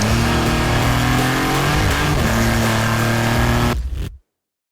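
Maserati MC20 sports car engine revving hard under acceleration in a low gear, a loud sustained roar with rising harmonics that cuts off abruptly near the end.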